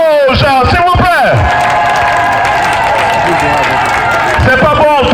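Audience applause at the first edition of the Klambié festival in Douafla, 2023, a steady wash of clapping and crowd noise under a loud voice on a public address system.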